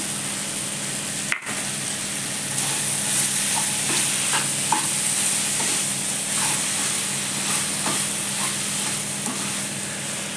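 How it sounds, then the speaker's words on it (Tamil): Masala sizzles steadily in hot oil in a pan while being sautéed for a cauliflower gravy, with intermittent spoon scrapes and one sharp clack early on, and no one speaking. "எண்ணெயில் ஒரு 2 நிமிஷம் வதக்கி விட்டு மூடி போட்டு ஒரு 2 நிமிஷம் மூடி வச்சிடலாம்"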